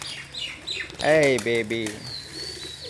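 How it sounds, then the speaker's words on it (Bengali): Pigeons at a busy pigeon market flap their wings in a sudden close burst, with faint cooing and chirps around them and a brief human voice speaking nearby. "কত কবুতর,"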